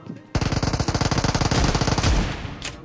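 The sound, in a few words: shotgun gunfire in PUBG video game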